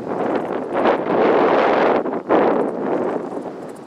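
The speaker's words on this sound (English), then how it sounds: "it's gotten real windy" Strong wind buffets the microphone in loud, continuous gusts over a tree-filled river valley at Hassayampa River Preserve in the Arizona desert, with a brief lull partway through before it roars back.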